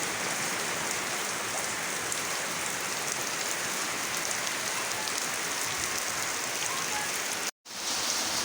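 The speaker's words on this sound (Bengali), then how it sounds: "দেখেন প্রচণ্ড বৃষ্টি।" Heavy midday rain pours steadily in a dense, even hiss on surfaces, with a brief dropout near the end and no talking.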